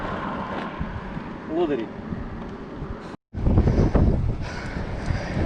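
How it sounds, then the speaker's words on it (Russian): Strong side-on headwind buffets the microphone while riding a mountain bike, rough low roaring gusts that swell and drop, loud and close, with a short dropout midway and someone speaking briefly over it. "Сильный ветер, боковой, наполовину встречный."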